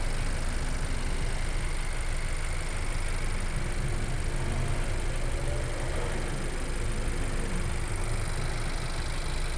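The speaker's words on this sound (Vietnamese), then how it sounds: "Và tiếng máy rất là êm." 2020 Honda CR-V 1.5G with 19,000 km idling, a smooth, quiet, even engine hum held steady under broad hiss, without speech or revving.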